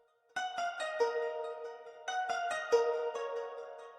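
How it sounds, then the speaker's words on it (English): A synth sample in FL Studio processed with a microshift detune effect, a short melodic phrase of plucked bright notes repeated twice with a slight chorus-like shimmer, moderately quiet and alone. "I put a microshift on it. And the microshift basically gives a detune."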